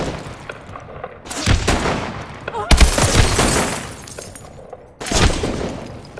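Suppressing gunfire in a Call of Duty: Advanced Warfare firefight: loud, dense bursts of rifle fire and heavy booms come in three surges, with brief lulls between, and voices are heard intermittently.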